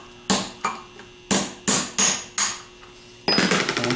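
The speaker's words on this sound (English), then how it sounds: "get your hammer and just tap that off." Six sharp metallic hammer taps strike a bearing off a 6G alternator in an uneven rhythm, close and loud, followed by a brief ringing, scraping clatter.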